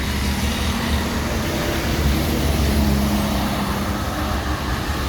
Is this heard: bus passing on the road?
yes